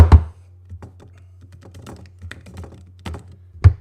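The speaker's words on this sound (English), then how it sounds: "but let's type it in." Close typing on a computer keyboard: a few firm key thumps open and close a run of lighter, irregular keystrokes, with no talk.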